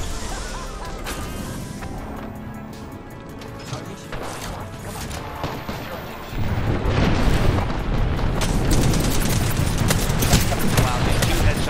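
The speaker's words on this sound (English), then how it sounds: "I'm just getting shot at from middle now." Rapid automatic gunfire in the Apex Legends video game, most likely a Spitfire, crackles in dense bursts throughout the clip. It grows louder and heavier midway as incoming shots pile up, with no speech over it.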